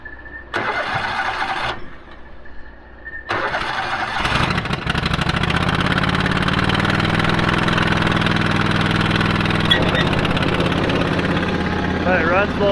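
A farm vehicle engine starts up after a short silence and a brief cranking, then settles into a steady low idle as it warms up, loud and close, with a shift in tone near the end.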